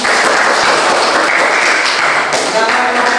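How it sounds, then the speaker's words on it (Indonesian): Audience applause in a school classroom after a group presentation's question session, a dense steady patter of clapping hands filling the room at close range for the whole stretch, with no talk over it. "kita beri tepuk tangan"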